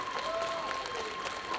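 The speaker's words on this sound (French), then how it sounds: "On les applaudit bien fort." Crowd applause at a cosplay parade during a video game show, a steady wash of clapping throughout with faint tonal music or voice lines drifting over it.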